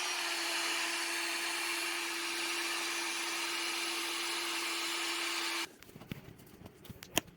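A small electric air pump motor inflating an air mattress whines loudly and steadily for about five seconds, then cuts off, followed by faint handling clicks and knocks.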